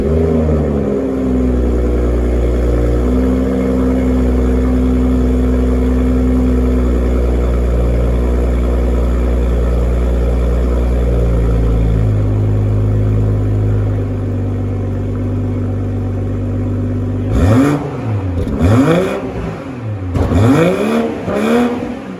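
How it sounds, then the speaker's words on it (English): A 2021 BMW M440 Cabriolet engine idles steadily and loud, then near the end gets several sharp revving blips that rise and fall in quick succession, close up with no talk. "I'm gonna do an engine start for you guys so you can see what the M440 sounds like"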